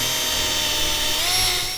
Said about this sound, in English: right now I'm drilling through 2 pieces of wood